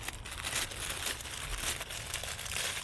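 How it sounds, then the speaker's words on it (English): Plastic bag packaging for a mosquito protection product crinkles and rustles continuously up close, in busy irregular bursts with no talking. "Beautiful deluxe plastic bag packaging."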